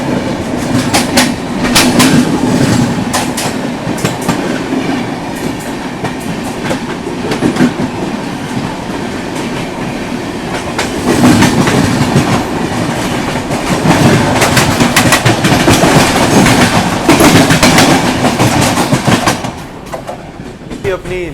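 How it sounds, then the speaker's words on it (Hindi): Lalitgram–New Delhi Vaishali Superfast Express passing close by, a loud continuous rumble with rhythmic clickety-clack of wheels over rail joints and rising, falling intensity, a voice faintly underneath. "यहाँ सामने से आती है दोस्तों ललित ग्राम नई दिल्ली"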